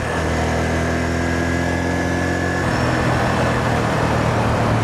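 A motorcycle is being ridden with a loud, steady engine drone mixed with rushing wind, and the engine tone shifts partway through. No one talks.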